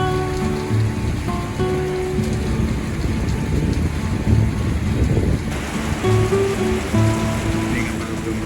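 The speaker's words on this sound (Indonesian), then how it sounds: "Ini kapal belum berangkat sudah hujan lebat" Heavy rain pours steadily onto a ship, the KMP Terubuk 1 ferry, a dense continuous hiss of drops with low rumbling underneath and a few louder thuds, close and loud throughout.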